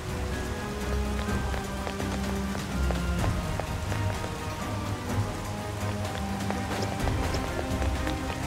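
Steady rain falling in the video game Persona 5 Strikers, a dense continuous patter on surfaces, loud and even throughout with scattered droplet taps and no voices.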